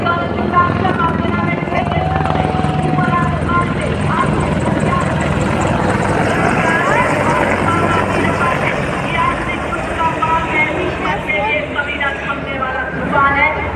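An Apache attack helicopter flies over a Republic Day parade, its loud rotor thumping and turbine roar filling the air continuously, with a voice commentating over it.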